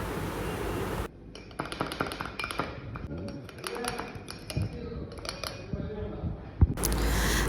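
A spoon clinks and scrapes against a cup while stirring Tata 3-in-1 coffee premix into hot water, with light rhythmic taps. A person talks over it, and louder room noise brackets both ends.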